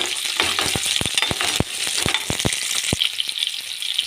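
Ginger and garlic sautéing in a pan for chicken kulambu, a dense continuous sizzle broken by a quick series of sharp metallic taps from a spoon against the pan, close and loud.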